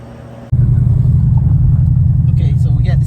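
Cadillac CTS-V engine running steadily on a test drive after a misfiring coil was replaced with one from a Camaro, a loud continuous low rumble that kicks in abruptly after a quieter start and holds constant.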